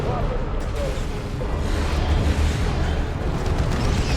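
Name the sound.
Leman Russ tank cannon shells hitting, Dawn of War II video game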